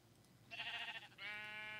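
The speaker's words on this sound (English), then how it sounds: "Oh, it's a sheep spawner." Two sheep bleats from a sheep spawner in the Minecraft video game, heard alone with no talk. The first is a wavering bleat and the second is a steadier, sustained one, both close and clear.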